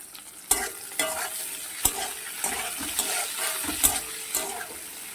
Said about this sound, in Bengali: পেঁয়াজ আর ক্যাপসিকাম একসঙ্গে ভাজবো